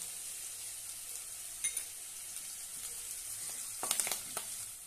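Curry leaves hit hot oil with chopped onion in a pan for mung dal, producing a close, continuous sizzle with bursts of sharper crackle and stirring scrapes, with no talking.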